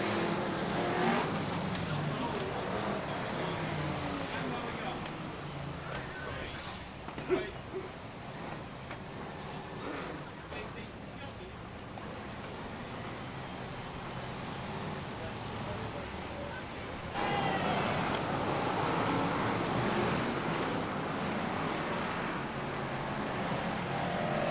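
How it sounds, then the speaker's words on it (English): BriSCA Formula 1 stock cars racing around an oval circuit at a UK Open meeting, engines roaring and droning as the pack passes, with a louder surge near the end and crowd or announcer noise underneath. "Twenty-three cars on the circuit then. BriSCA Formula 1 Stock Cars Heat 2"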